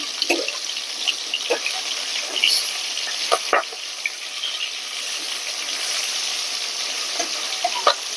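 Hilsa fish fries lightly in a pan, giving a soft continuous sizzle with scattered small crackles and occasional louder pops or clinks, kept fairly quiet and close.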